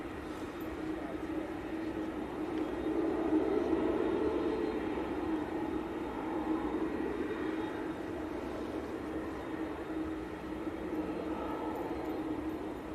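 An EasyJet airliner rolls down the runway at Manchester Airport, its steady broadband jet roar swelling slightly and then holding at a distant, continuous rumble with no talk.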